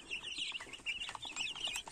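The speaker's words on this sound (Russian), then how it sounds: "С нами здесь живут вот цыплята черномедного марана." Ten-day-old chicks, naked neck and black copper Marans, peep continuously in a brooder, a dense overlapping chorus of high chirps close by with no voices.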